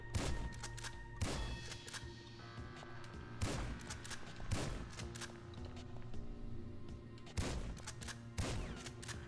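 Gunfire in GTA 5, a series of sharp, separate shots spaced a second or two apart over a steady low background hum, each one loud and close.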